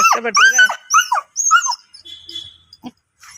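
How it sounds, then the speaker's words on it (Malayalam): A puppy whimpers and yips in short, high bursts, close by, followed by a few faint sniffs and shuffles. "മണിക്കൊരു കൂട്ടായി എന്നാ എടുക്കട്ടെ പോയിട്ട് ആ നായ്ക്കുട്ടീനെ എടുക്കട്ടെ"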